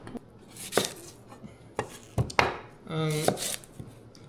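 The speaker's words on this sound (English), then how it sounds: "Now let's cut onion." A knife chops onion on a cutting board in several sharp, separate strikes at an uneven pace, close and fairly quiet, with a short clatter of kitchenware between cuts.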